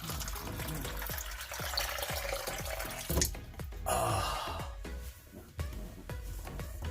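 Fresh water gurgling and splashing from a newly swapped RV water pump as it primes, uneven spurts and bubbly pulses up close, with a surge midway before settling into irregular trickling.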